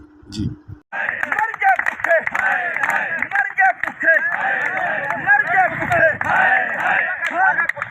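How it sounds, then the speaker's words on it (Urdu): Protesting government employees at a rally chanting slogans against government measures, a loud mass of voices shouting in rough unison, with rhythmic bursts and crowd babble after a brief opening sound. "اس موقع پر ملازمین نے احتجاجی ریلی نکالی اور حکومتی اقدامات کے خلاف نعرے بازی کی۔"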